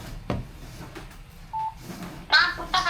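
Phone keypad tones ring out as a text message is typed, with a few short beeps coming through clearly over faint room noise and some brief background speech.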